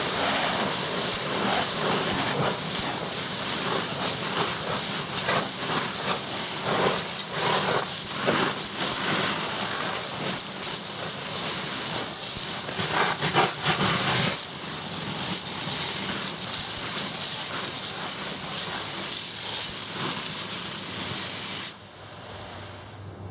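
Steam hisses steadily as water douses a campfire, a dense continuous spray-like rush that holds for about twenty seconds before dropping away sharply near the end.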